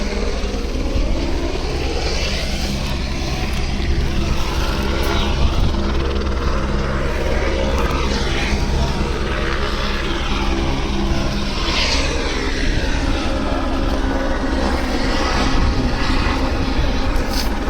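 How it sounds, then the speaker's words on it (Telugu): A helicopter landing near a tent camp at Kedarnath, its engine and rotor roar loud and steady for the whole stretch, close by and without talk. "మన ఆపోజిట్ గానే హెలికాప్టర్ ల్యాండ్ అవుతుంది."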